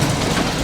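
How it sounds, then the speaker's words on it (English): A lorry rumbles past outside a metal finishing works, a loud, dense, low roar with rattling texture filling the brief moment. "Sorry about the noise, there's a lorry going by."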